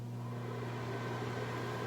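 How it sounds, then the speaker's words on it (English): A microwave oven runs steadily with its turntable switched off, heating a cheese wrap sandwiched between parchment paper; a constant low hum with mechanical drone fills the clip, no voices. "Sandwich it between the parchment paper and microwave it for 15 seconds."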